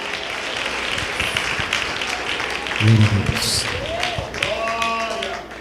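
Church congregation claps hands together in a dense, steady patter that runs under a preacher's voice and amplified talk throughout, in a lively Pentecostal service.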